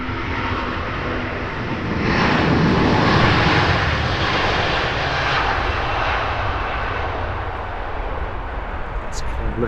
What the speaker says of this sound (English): Looking British Airways A350 1000. Decent early rotation as well.